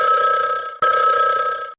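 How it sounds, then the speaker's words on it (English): A loud electronic telephone ring in two bursts with a brief gap between them, used as a sound effect in an audiobook, with no speech over it. "The phone jangled,"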